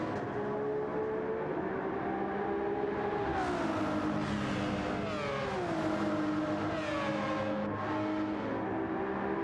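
Burly Citroën race car engine in Gran Turismo 7 during an endurance championship race, a sustained droning roar that shifts pitch through gear changes and revs, steady and loud throughout.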